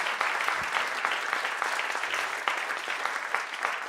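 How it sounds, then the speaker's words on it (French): Audience applause at the Swiss Web Festival award ceremony, a dense, steady wash of clapping from a crowd that holds at an even level for its whole length with no voices on top. "On les applaudit bien fort."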